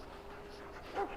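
A Mabari war dog in Dragon Age: Origins pants briefly and softly, with a slightly louder breathy huff just before the sound stops.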